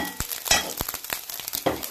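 Fish roe fries in a pan with crackling sizzle and a quick series of scraping, tapping stirs, close and moderately loud.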